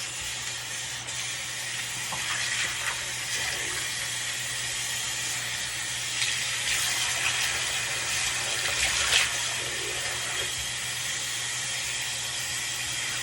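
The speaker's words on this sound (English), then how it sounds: "You're going to keep doing this until the water runs clear." Steady hissing rush of water running while a wig is rinsed, close and continuous, with faint splashes and handling sounds throughout and no talk.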